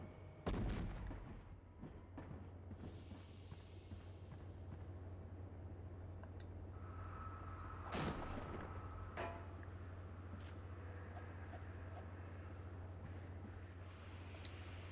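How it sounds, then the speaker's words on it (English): A grenade launches with a heavy booming blast in a beat 'em up video game, followed by a steady low rumble and scattered crackling impacts over fifteen seconds, with no talk. "Oh, I just fired a grenade."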